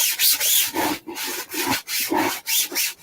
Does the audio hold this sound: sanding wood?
yes